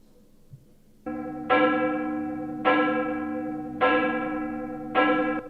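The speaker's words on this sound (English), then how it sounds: "Oh, bell toll number 1 and 2 are different." A deep church bell tolls four times at slow, even intervals, each strike loud and ringing with a long resonant decay, heard alone without talk.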